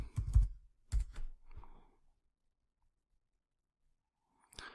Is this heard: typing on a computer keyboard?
yes